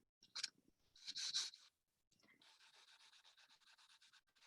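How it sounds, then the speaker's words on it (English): A 180 grit file rasps against a Polygel nail, first in short bursts, then as a brief pause, then as a run of quick rhythmic strokes, close and soft, with no talking. "I'm going to grab my 180 grit file. I'm going to start with my nail groove"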